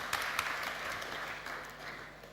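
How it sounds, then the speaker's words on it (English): A startup fair audience claps to welcome a B2B company presenter to the main stage, a fairly soft, even round of applause from a crowd in a hall. "Please welcome with a round of applause."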